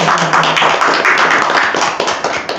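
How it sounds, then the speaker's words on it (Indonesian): A small group claps on a campus podcast set, giving loud, close, rapid overlapping hand claps that run for a couple of seconds with a little background voice. "Tepuk tangannya dong."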